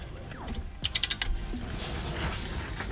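A wrench ratchets and clicks in a short burst of five or six quick metallic snaps while the large caliper bracket bolts come loose on the front brakes of a 2006 Toyota Highlander Hybrid, all in a shop.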